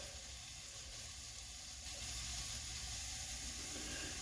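Vegetables for a vegetable pot pie sauté in a pan, giving a faint, continuous sizzle and hiss at low volume with no voices.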